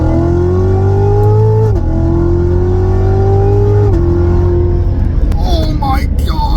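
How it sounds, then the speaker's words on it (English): A Chevrolet Corvette C7 Z06 engine revs through quad exhausts, loud and close, its pitch climbing and dropping twice before dying away into rough rumble, with faint voices underneath. "Whether you get a Stingray or a Z06, they do not disappoint with how they sound."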